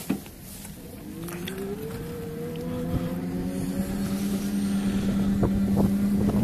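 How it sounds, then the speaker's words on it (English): A 250W electric bike hub motor pulls a rider uphill with a steady whine that rises slowly in pitch and holds, over rumbling wind noise and road rumble, with no talk. "we are moving and it's just the motor doing the work"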